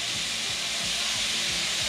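Vegetables with a pinch of salt saute in a pan for Cajun Alfredo, giving a loud, even hiss with a faint repeating rumble underneath, and no talking.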